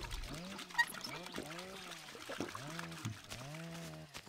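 Drinking well water in the video game My Summer Car, a faint series of rhythmic gulping swallows repeating steadily, heard alone at low level.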